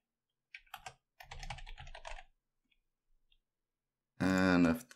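Close keystrokes on a computer keyboard while writing HTML code, two short bursts of rapid typing, then a pause and a single louder clatter near the end, with no talking.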